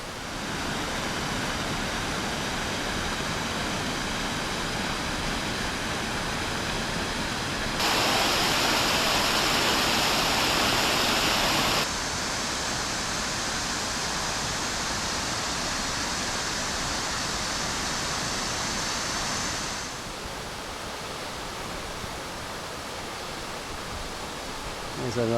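Steall Falls in Scotland pours in a broad, steady roar of rushing water, continuous and fairly loud, surging fuller for a few seconds midway before settling back, with no one speaking.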